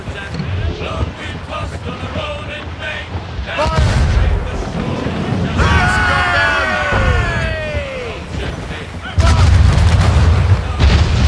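Ship cannons firing in Assassin's Creed Rogue naval combat, heavy booms and rolling blasts over sea and wind noise, with crew voices shouting over the barrage and a loud broadside near the end.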